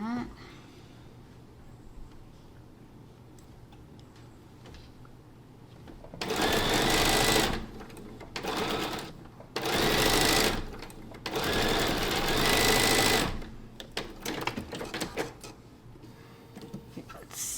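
A domestic sewing machine stitching a quilt block with a 1/4 inch seam and short stitch length runs in several loud bursts of rapid whirring, separated by brief pauses with quiet handling noises and faint talk between.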